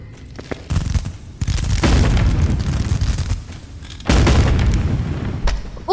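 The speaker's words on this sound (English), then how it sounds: "I'm gonna shoot every monster I see." Revolver shots in the video game Animal Company land as heavy booming blasts, several loud hits each followed by a sustained rumbling tail, close and without talk.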